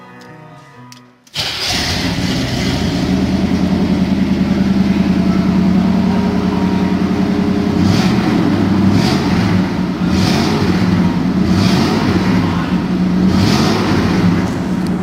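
A 1972 Chevelle SS 454 big-block engine cranks and catches, then settles into a loud, deep rumbling idle punctuated by several throttle blips, close and prominent.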